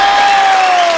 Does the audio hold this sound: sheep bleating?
no